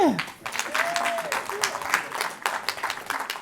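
An audience at a French-language stage show breaks into steady applause to greet a guest, a broad wash of clapping with a voice speaking over it throughout.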